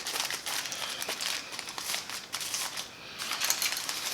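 Plastic wrap or foil being folded over a rack of ribs with a wide fold to seal them, giving steady close crinkling and crumpling rustles throughout, with no talking.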